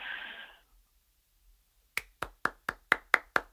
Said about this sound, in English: You get claps from me.